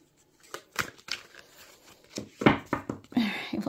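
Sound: shuffling tarot cards

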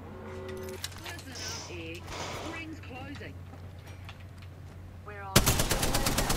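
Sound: gunfire in the video game Apex Legends

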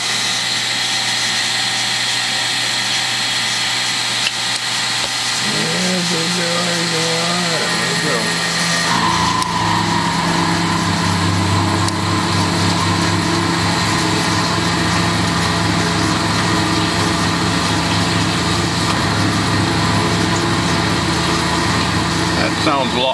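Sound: milling machine taking a roughing cut at 1750 RPM

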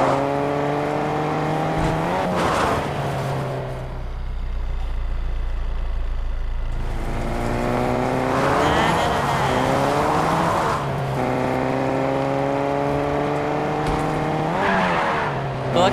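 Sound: car driving in Fortnite, a video game

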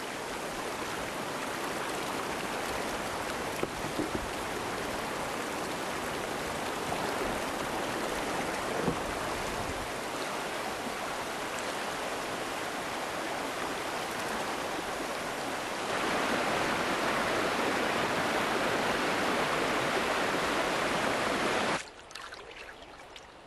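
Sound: river rapids rushing water

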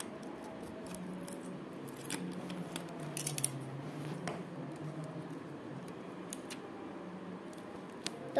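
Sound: scissors cutting thick cellophane tape

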